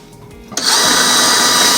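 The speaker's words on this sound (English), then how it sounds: "And I'll drill a pilot hole for" An electric drill spins up to bore a pilot hole in a model railway turnout, starting abruptly after a quiet moment and holding a loud, steady whine.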